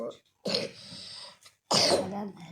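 Two harsh, raspy coughs or throat-clearing bursts, close and loud, separated by a short pause.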